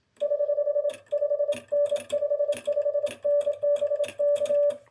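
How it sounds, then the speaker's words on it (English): A semi-automatic bug key sends Morse code as fast, evenly spaced dits, forming a steady pulsing tone in short runs separated by brief pauses and mechanical clicks, heard close and alone. "that pendulum vibrating and making contact back here is what gives us our DIT"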